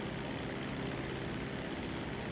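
Propeller airplane engine in GTA V Online, a continuous even drone with a steady hum, quiet and unchanging throughout with no talking.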